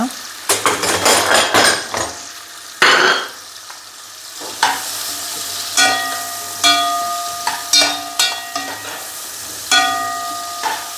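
Sausage frying in a pan with peppers in a home kitchen: a close, steady sizzle under repeated sharp metallic clinks and scrapes of a utensil against the pan, coming in irregular bursts.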